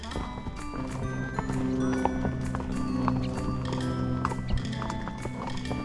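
A horse moves along a ranch trail, its hooves clip-clopping in an irregular rhythm close by while people talk and greet it over the hoofbeats.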